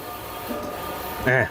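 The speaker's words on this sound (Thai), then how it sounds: "อันดับขั้นตอนแรกเราก็ต้องมาพิมพ์บนกระดาษก่อนนะครับพิมพ์บนกระดาษแบบนี้นะครับ" A large-format printer hums steadily while printing a sportswear design on paper, a close, continuous mechanical drone with someone talking over it.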